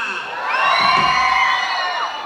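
A crowd at a wedding celebration in San Agustín Oapan lets out a loud, sustained collective shout and whoops, swelling and holding for about two seconds.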